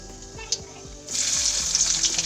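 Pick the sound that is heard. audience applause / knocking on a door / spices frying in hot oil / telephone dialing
spices frying in hot oil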